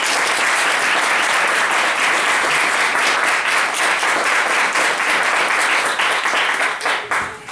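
Sustained applause from an audience welcoming a speaker to a talk, dense and steady clapping filling the room for several seconds before tapering off at the end.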